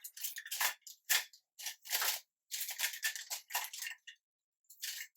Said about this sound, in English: So let's grab a sticker off of here.